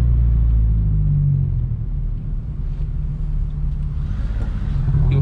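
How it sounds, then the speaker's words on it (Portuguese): A Renault Sandero RS engine rumbles loudly and revs, its low roar surging and dipping over a few seconds with no one speaking. "O cara tá acelerando o carro, hein?"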